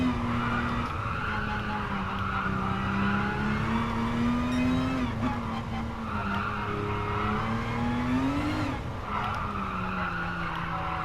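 A race car in a sim racing video game is driven on a controller with traction control set to 1, its engine droning steadily as it rises and falls through revs while the tyres squeal and skid continuously, loud and close, with no talking.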